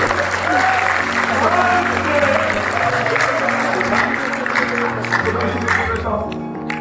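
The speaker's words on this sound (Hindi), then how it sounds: "ताली बजाइए करके" Audience clapping at a Hindi kavi sammelan poetry gathering: a steady round of applause from the crowd, with a low hum and faint voices underneath, thinning out near the end.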